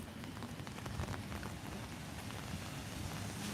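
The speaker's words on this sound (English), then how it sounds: "Oh my God, the rain is not going away." Quiet, steady rain patters on surfaces during an early morning walk in East New York, a soft continuous hiss with scattered drops and no talking.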